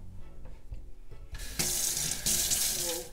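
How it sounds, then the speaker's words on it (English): Hands washed under a running kitchen tap, a few small clatters before the water gushes on strongly and keeps streaming steadily, loud and close. "wash them hands."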